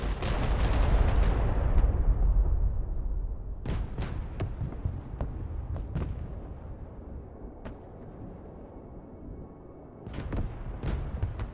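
Artillery strike in the game Broken Arrow: a heavy blast with a long rumbling decay, followed by scattered sharp cracks and booms at varying distances, then a fresh burst of impacts near the end.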